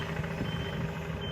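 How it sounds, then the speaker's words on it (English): Faint reversing beeps from an excavator loading onto a trailer sound in the distance over a steady low engine rumble. "excavator beeping in the background as he loads it on his trailer"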